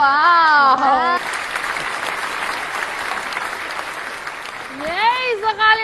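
An audience applauds during a children's TVRI Jambi broadcast with pupils from an Islamic primary school, a steady wash of clapping between bursts of excited voices at the start and end.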